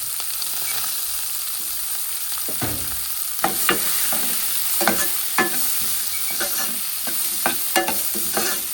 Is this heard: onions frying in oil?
yes